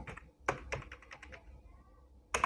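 Keys pressed on a computer keyboard, including the enter key, while filling in a school budget form: a few quick close clicks, a pause, then one firmer tap.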